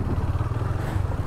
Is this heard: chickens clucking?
no